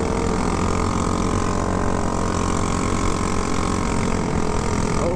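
Motorcycle engines at a Northwest Harley meet-up mob, riders pulling wheelies, give a steady, dense rumble of several engines running and revving nearby without a break.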